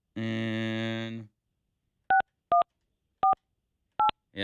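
Telephone dialing, beginning with a steady dial tone that cuts off, then a run of short, evenly spaced DTMF keypad beeps, clear and close.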